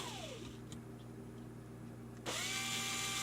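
A small power drill whines steadily while boring holes in a plastic guitar pick, with a pitch dip as it bites. It ends in a louder high whir, close up and without speech.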